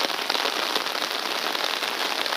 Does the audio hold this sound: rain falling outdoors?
yes